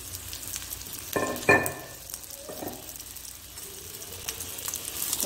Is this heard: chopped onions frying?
yes